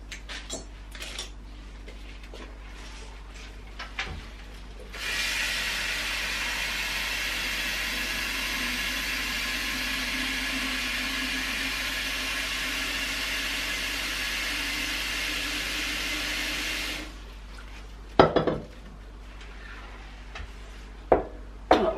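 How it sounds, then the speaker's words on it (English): Water poured into a container holding flowers, a steady rushing stream lasting about twelve seconds before stopping abruptly, with faint handling clatter around it. "Right, put some water in there."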